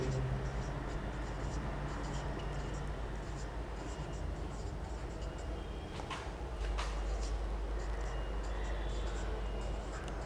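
A teacher writes on a classroom board during a seventh-grade maths lesson, with soft scratchy strokes and taps over a low background hum.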